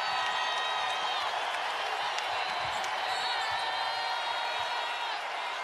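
Basketball arena crowd at a Louisville vs UConn game, a sustained, loud wash of cheering and noise that holds steady throughout.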